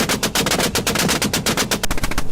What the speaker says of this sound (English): Gunshots thundered through the open field.